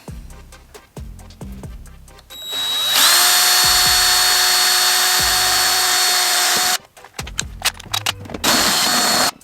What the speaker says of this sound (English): we're going to drill a hole in the same spot.